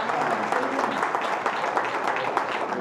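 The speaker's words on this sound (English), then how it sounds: "In honor of our dear beloved mother, let's give her a round of applause" Congregation at a church memorial service for a beloved mother breaks into steady applause, a dense continuous wash of clapping filling the room without pause.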